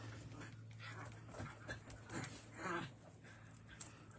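A dog pants and whimpers indoors while digging at a sofa, the soft breathy noises steady under a constant low electrical hum, with a louder whine-like burst partway through.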